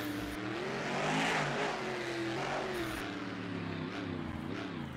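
A monster truck engine in the Rigs of Rods driving game runs a practice lap, a steady loud droning growl with rising and falling pitch as the throttle shifts, heard alone without talk.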